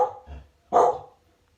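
Dogs barking indoors, two short nearby barks with a brief pause between them and no talk.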